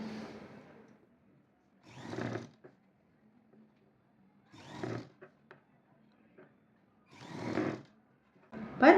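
A sewing machine stitches a blouse in short bursts, three or four brief runs of whirring separated by quiet pauses, heard close and alone.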